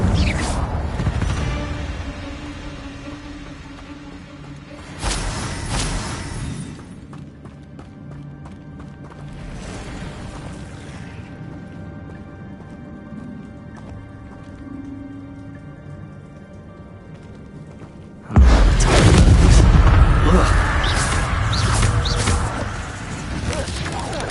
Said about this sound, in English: Accio! Incendio! Levioso! Expelliarmus!